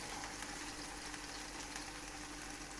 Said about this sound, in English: Let's just put a few in the back there and see what happens with them when we fry them.